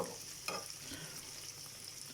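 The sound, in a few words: liver sautéing in a pan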